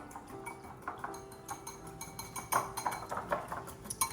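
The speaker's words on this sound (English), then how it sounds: "So I'm gonna mix this up." A marinade for sticky Asian chicken wings, made with mirin, is stirred in a bowl, heard as quick repeated clinks and taps of a utensil against the dish, close and moderately quiet.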